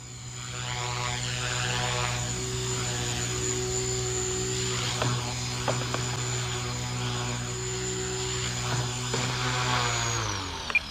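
An Align T-Rex 300X small RC helicopter hovers and sets down on its maiden flight, a steady high rotor whine with a droning tonal hum that holds nearly alone, then winds down at the end.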